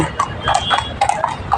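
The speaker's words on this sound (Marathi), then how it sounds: "दोन घोडे चालले" Two horses walking near a Mumbai racecourse in the evening, hooves clip-clopping in an irregular rhythm on hard ground, close and fairly loud, with faint voices in the background.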